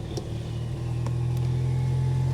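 A car exhaust at a salvage auction yard idles and rises into a steady, close, sustained rev, growing slightly louder across the short stretch with no talk over it.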